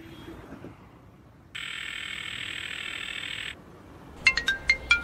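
A phone ringtone rings as a steady electronic tone for about two seconds in a quiet room, then cuts off, followed by a few short, chirpy melodic beeps.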